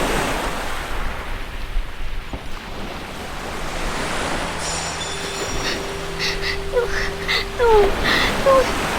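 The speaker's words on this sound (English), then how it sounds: "This is one massive lake. I don't see the edges anymore. And what's with these waves?" Waves roll on a massive lake whose edges can't be seen, a steady rushing wash mixed with wind buffeting, with faint tonal chirps emerging near the end.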